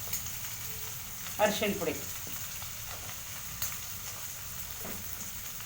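Bitter gourd sizzles steadily in a hot pan of oil while a gojju is cooked, giving a constant soft crackle. Someone speaks briefly over the frying, and a few louder spatters and stirring clatters come and go.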